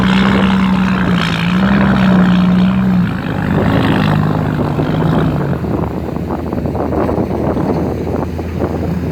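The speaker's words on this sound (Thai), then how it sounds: "เสียงลมอาจจะแทรกเข้ามา พร้อมกับเสียงเครื่องยนต์" Steady engine drone with a low propeller-like hum at a large irrigation reservoir earthworks site, mixed with rushing wind buffeting the microphone throughout, loud and continuous.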